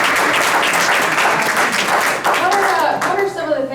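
Audience applause fills a panel discussion on digital transformation, a dense, steady wash of many hands clapping at close range, with voices audible through it near the end.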